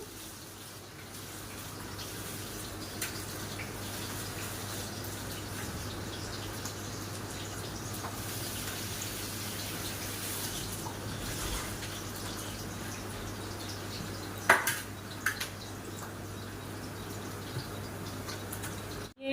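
Kitchen tap water runs steadily while paneer is washed, a continuous gushing stream with a few clinks and splashes near the middle.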